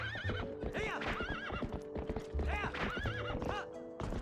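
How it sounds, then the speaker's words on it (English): Horse hooves clip-clop in a steady rhythm while the horse neighs and whinnies repeatedly in the video game Twilight Princess, loud and close with game music underneath. "Alright, where did I leave my horse? Look at my horse."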